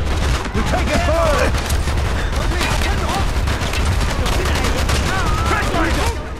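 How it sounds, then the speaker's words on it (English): Dense, continuous gunfire and automatic bursts fill a Call of Duty: Black Ops firefight, loud and close throughout, with shouted voices woven in among the shots. "We're taking fire!"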